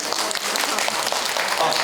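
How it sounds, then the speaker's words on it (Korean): A classroom audience at a Korean science lecture claps for a student, giving a short, dense burst of many hands applauding together, steady and fairly loud throughout. "자, 박수."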